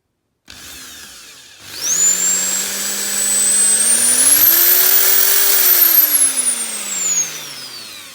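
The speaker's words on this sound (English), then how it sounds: "So I'm just about to drill a hole into the centre of that." A power drill whines steadily, its pitch rising and then slowly falling as it bores a pilot hole through a die-cast metal model car roof, loud and close for several seconds.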